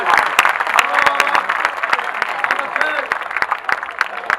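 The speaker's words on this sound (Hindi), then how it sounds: "तालियां एक बार हाथ उठा के बजाओ जोरदार" Loud, dense audience applause at a Hindi hasya kavi sammelan comedy poetry event, with many sharp claps ringing out close by over a full crowd.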